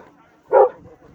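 A single loud, close bark from a dog at an outdoor dog show, one short burst standing out against quiet background.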